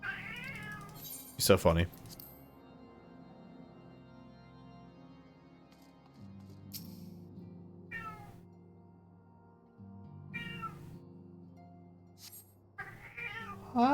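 A cat meows several times, with one loud burst early on and quieter cries scattered afterward, mixed in with a person talking.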